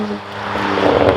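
A BMW M2 Competition with a Milltek equal length exhaust gives a loud, rough engine and exhaust roar that builds slightly over a moment of acceleration.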